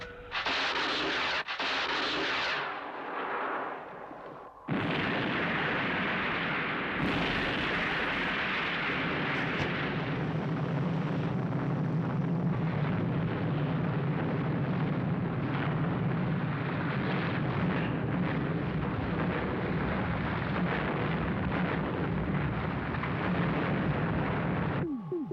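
Missiles launch and detonate in a long, loud roar of rumbling blasts, opening with a few sharp bursts before settling into continuous deep, thundering explosion noise with no voices.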